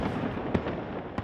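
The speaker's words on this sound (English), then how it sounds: "a fireworks extravaganza over the crowds gathered at the Champs-Élysées" New Year fireworks burst over crowds gathered on the Champs-Élysées in Paris: two sharp, loud bangs over a dense, continuous roar of crowd noise.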